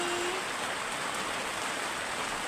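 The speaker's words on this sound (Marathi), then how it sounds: "दिवसभराचं पाणी चालूच आहे अजून" Rainwater runs without pause, a loud, close, continuous hiss of falling rain and flowing water that holds steady from start to finish with no voices.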